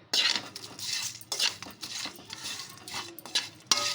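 Chicken fry being stirred with coriander in a pan, close and clear: a run of quick, repeated metal scrapes and clinks of a spoon against the pan in an uneven rhythm.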